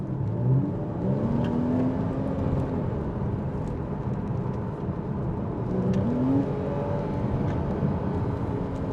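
A 2013 Porsche Boxster S 981 with the 3.4 engine and PDK gearbox accelerating, with a steady engine drone and rising gear tones heard from inside the car, with no talk.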